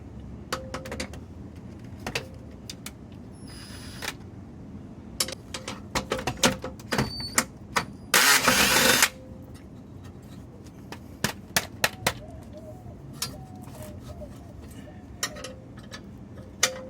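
A run of scattered metallic clicks, taps and clanks comes from BAL stabilizer fasteners being undone on a Casita trailer, with a brief louder scraping burst partway through and a quiet background between hits.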